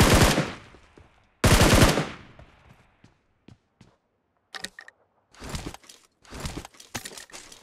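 AKM and AUG gunfire in the video game PUBG Mobile: two loud close bursts open the clip, then a quiet stretch with faint taps, followed by several rapid mid-distance volleys.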